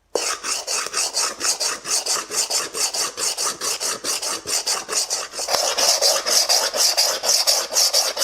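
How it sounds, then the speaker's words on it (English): Rhythmic rasping strokes of sanding metal, about two per second, steady and close, a gritty scrape repeating back and forth with no voices. "I'm going to keep sanding for a little bit"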